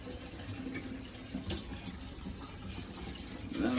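Water pours steadily into the overflow drain of an in-wall DIY aquarium, a continuous splashing trickle close by that swells slightly toward the end, with no talking.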